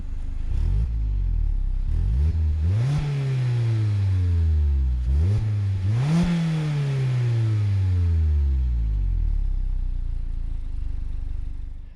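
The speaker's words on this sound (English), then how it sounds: "the single outlet twin tipped exhaust, which I must say for stock actually makes a pretty solid noise" A stock 2020 Mazda MX-5 RF Grand Touring revs through its single-outlet, twin-tipped exhaust: two sharp throttle blips rise and fall, then the engine settles into a steady idle, close and fairly loud.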